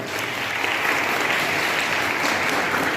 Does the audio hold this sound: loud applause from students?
yes